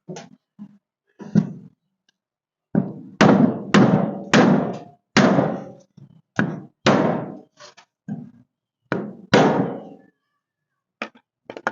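A hammer strikes a block of wood under a 1956 Ford milk truck, a close, loud run of sharp thuds in uneven clusters with short pauses between blows.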